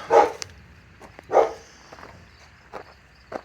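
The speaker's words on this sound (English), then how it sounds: "Never mind my dog, he's not the smartest" A pet dog barks twice in a garage where a Plymouth Horizon is being cut up, two short close woofs about a second apart, followed by faint clicks and light shuffling.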